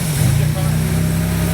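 A Porsche 914/6 flat-six runs with a steady, low, throbbing engine note close by, starting and settling toward idle in a short burst with no talk over it.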